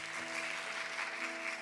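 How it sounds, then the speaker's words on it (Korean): A congregation at a Sunday church service applauds in a continuous, even patter of clapping that sounds slightly distant, with a faint sustained tone running underneath. "우리 수고와 또 하나님께 감사의 영광 박수 함께 올려드리겠습니다."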